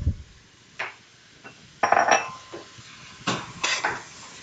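Metal pot and pan clanks and scrapes at a kitchen stove as a saucepan is lifted off, several sharp clinks in separate bursts with quiet gaps between them.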